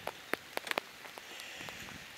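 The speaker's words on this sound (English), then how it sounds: "It is drizzling and raining badly, badly, badly." Rain falling outdoors in a drizzly downpour, scattered close drops tapping a surface over a soft steady patter, fairly faint with no talk.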